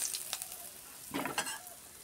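Hilsa fish fries in hot oil in a pan, giving a quiet, steady sizzle with a few brief louder crackles and stirring scrapes.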